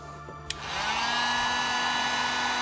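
A heat gun switches on with a click and blows steadily to warm the seal of a 2014+ GMC Sierra Permaseal headlight, a close, continuous whooshing hum that rises and holds.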